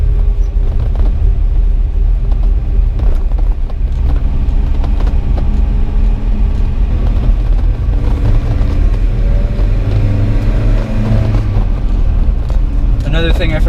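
A 1986 Toyota pickup with a 5-speed manual transmission drives along steadily, its engine and road rumble loud and constant inside the cab for the whole stretch, with a little rattle near the end and no speech.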